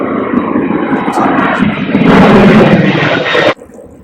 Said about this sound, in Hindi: एक और हवाई जहाज़ फ्लाई कर रहा है,